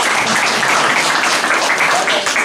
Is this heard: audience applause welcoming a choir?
yes